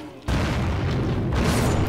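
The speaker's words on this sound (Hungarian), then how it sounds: "azok az óriás hordók szerintem azok robbantak föl" Giant barrels blow up in the video game MorphX, a sudden loud booming explosion that bursts in after a brief quiet moment and rumbles on densely for nearly two seconds.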